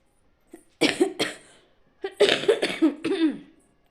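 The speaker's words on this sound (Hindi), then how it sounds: "ये खांसी मेरे जाने का नाम नहीं ले रहा है" Two clusters of harsh, close coughs, a couple of single hacks followed by a rapid run of four or five.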